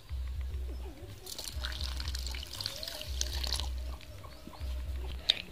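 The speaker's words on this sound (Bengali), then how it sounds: "এই বাটিটার আমি 1 বাটি জল দিয়েছি" Water pours into a bowl of sugar and a pinch of salt for Bengali malpua batter, a soft steady trickle and splash running in several bursts, with a faint sharp clink near the end.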